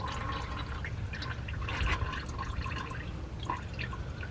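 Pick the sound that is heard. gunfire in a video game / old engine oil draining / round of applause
old engine oil draining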